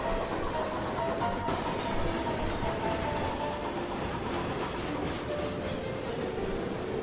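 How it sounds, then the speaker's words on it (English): A passenger train running in the Chris Sawyer's Locomotion video game, a steady rolling rumble with faint rhythmic wheel clatter and a thin squeal, continuous and unbroken with no talking. "The passenger train is on the passenger train track."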